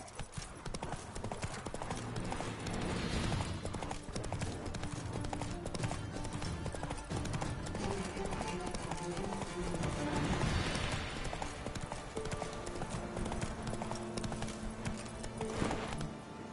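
In a video game, the horse Roach's hooves clip-clop in a steady, quickening rhythm that runs throughout, layered over music and ambient game sound, with brief speech now and then.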